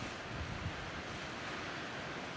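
Wind blows steadily across an exposed mountain ridge, a continuous broadband rush with low rumbling buffeting on the microphone and no voices.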